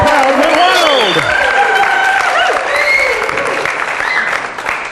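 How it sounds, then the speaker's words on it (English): A crowd cheers and applauds as a played effect, with a dense wash of clapping and sweeping whistles and shouts, loud and close, overlapping with talk. "The crowd went wild."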